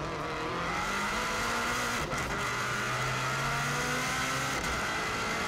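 A 2016 Subaru WRX STI braking hard on the Isle of Man TT road course, its engine note sliding through downshifts into second gear, heard from inside the car as a continuous loud roar.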